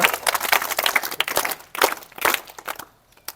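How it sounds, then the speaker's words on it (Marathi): Loud, dense clapping from a crowd of students and guests at a village primary school prize ceremony, sustained in bursts that fade near the end. "जोरदार टाळ्या वाजले पाहिजे जोरदार आवाज"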